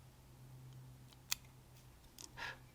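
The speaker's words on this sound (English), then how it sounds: "And then just trim that pheasant tail off as short as you can." Scissors give a single quick snip while trimming pheasant tail fibers on a fly being tied, followed by faint small handling sounds in an otherwise quiet setting.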